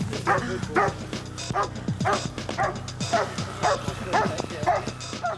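A police dog barks in rapid, repeated bursts while cornering a suspect during a police chase, loud and close, with a busy background behind it.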